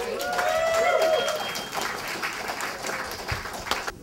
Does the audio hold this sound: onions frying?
no